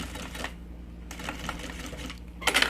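Sewing machine stitching a fabric triple pencil case with an inner zipper, a steady mechanical whirr with brief bursts, louder toward the end, heard alone.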